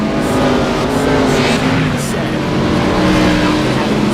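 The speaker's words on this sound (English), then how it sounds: "even in pacing, you can hear those engines roar" Race car engines roar continuously in an iRacing sim race during pacing laps on a hot track, a dense, steady drone of several cars with a commentator talking over it.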